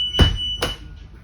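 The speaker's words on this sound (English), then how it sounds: "Once I lift this red bar, the alarm should sound." A school bus emergency exit alarm sounds in two short, loud electronic buzzes about half a second apart, each cutting off sharply, followed by quiet.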